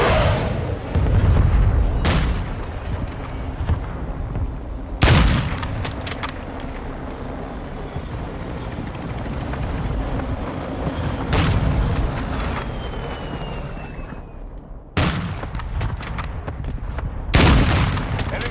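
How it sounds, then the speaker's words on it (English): Hostile mortar strike explosions land in a Modern Warfare 2 Ground War match, several loud, sharp blasts at irregular intervals over continuous rumbling battlefield noise and scattered gunfire. "Hostile mortar strike in the area."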